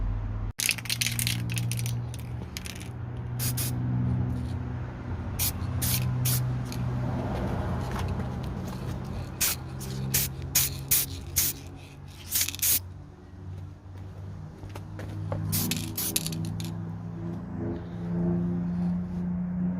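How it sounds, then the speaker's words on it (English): Spray paint hissing from an aerosol can onto a peeling BMW E60 gear shifter, several short bursts and longer passes separated by brief pauses, close and clear. "start spraying aiming at the thing you're painting"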